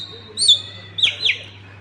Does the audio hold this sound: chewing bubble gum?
no